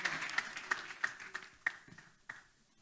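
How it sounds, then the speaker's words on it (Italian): Audience applause at an award presentation in Italy, a loose scatter of claps with a few sharper hand strikes, fairly quiet and thinning toward the end. "Allora io prendo questo applauso e ringrazio per l'applauso"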